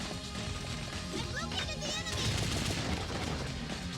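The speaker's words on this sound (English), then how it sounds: "Where are they shooting me from?" Enemy gunfire in Ghost in the Shell: Stand Alone Complex, a steady dense crackle of rapid shots running under game noise and a talking player throughout.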